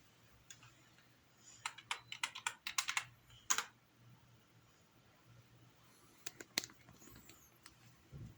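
Computer keyboard being typed on while a PC is set up, irregular bursts of close, crisp key clicks with brief pauses, under a faint steady hum.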